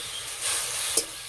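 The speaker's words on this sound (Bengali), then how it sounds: "হালকা হাতে একটু সময় ধরে ভালো করে ভেজে নেব।" Cauliflower leaves with a little turmeric frying in a pan without salt or water, giving a steady close sizzle with a brief louder burst of hiss partway through.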